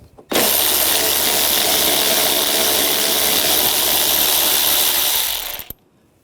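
A 10mm socket on a ratchet rapidly spinning out a radiator bolt on a 2008-2012 Jeep Liberty 3.7L V6, one loud, close, continuous whirring buzz lasting about five seconds before stopping abruptly.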